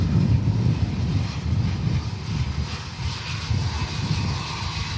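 A fixed-wing airliner lands at Manchester Airport during a storm, its engines giving a steady, loud low roar mixed with wind buffeting the microphone, with no voices.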